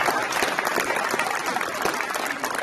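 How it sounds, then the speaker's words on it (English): A round of audience applause at a high school signing day event, steady dense clapping from a crowd filling the room throughout, fairly close and loud. "All right, one more round of applause for Allie McConnelee, please."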